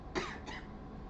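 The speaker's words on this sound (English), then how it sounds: "Sorry for a little coughing there." Two quick, close coughs in a quiet room, the first sharper than the second.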